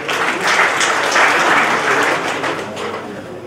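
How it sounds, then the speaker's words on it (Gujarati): An audience at an oil mills association directory launch at a resort claps for a speaker coming up, a loud, dense, even burst of many hands that holds for several seconds and eases slightly toward the end. "એમના માટે જોરદાર તાળીઓ"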